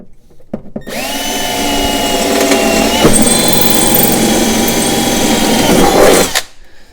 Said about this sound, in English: the reason why I drilled through on the back side